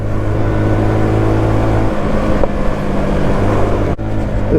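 Benelli Leoncino 125 motorcycle engine while riding, a loud steady drone with continuous low harmonic hum and wind rush, briefly dipping as the throttle shifts.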